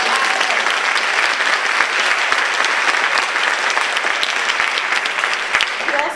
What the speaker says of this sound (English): we owe him another round of applause